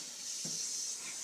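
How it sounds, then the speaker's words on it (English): Ultrasonic cleaner holding surgical instruments, running as a continuous high, even hiss with a brief low thump near the middle. "What's that sound? Oh, that's the ultrasonics."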